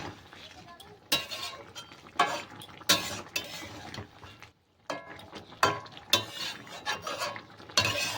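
Fried paneer is stirred into a vegetable mixture in a pan: repeated bursts of spoon scraping and light clinks against metal over a faint sizzle, close by.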